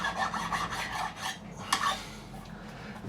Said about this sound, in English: So I'm just going to take a little off the front, just shaping.